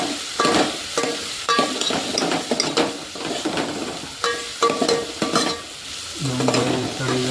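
Onions fry in a pan for an eggplant oro dish, a steady sizzle under repeated scraping stirs and clinks of a spoon against metal, then a low humming tone near the end.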